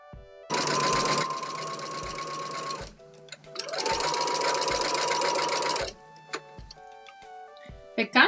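A sewing machine stitches through the thick quilted layers of an oven mitt in two long, steady whirring runs separated by a pause, with soft ticks and clicks in between.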